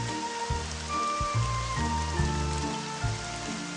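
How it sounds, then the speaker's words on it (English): Steady hiss of cartoon rain falling on a surface, with a low musical tune playing underneath. "Wow, it's really raining out there."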